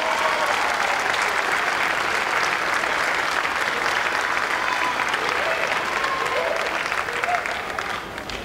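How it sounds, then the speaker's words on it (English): Sustained, loud applause from an audience at a senior athletic awards ceremony fills the whole stretch, steady crowd clapping honoring award recipients. "I would ask you to hold your applause till the third name."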